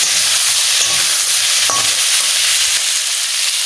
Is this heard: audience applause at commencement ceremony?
no